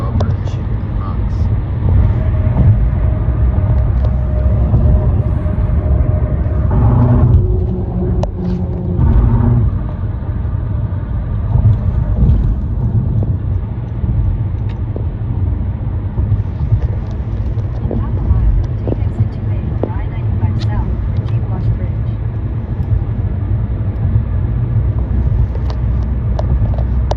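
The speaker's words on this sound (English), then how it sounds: "We're gonna go across the drawbridge of the Hutchinson Park drawbridge in the Bronx." A car driving across the Hutchinson drawbridge in the Bronx, a loud continuous road rumble with rhythmic thumps from the bridge deck partway through, and people talking over it.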